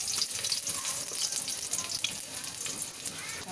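Ginger sautéing in a pan of hot oil, a steady, close crackling sizzle that runs without a break, with no voices.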